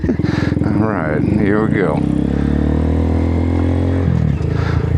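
A 2022 Honda Grom motorcycle pulls away in first gear, its engine droning steadily and loud up close throughout, with a brief rise in pitch, while a person talks over it.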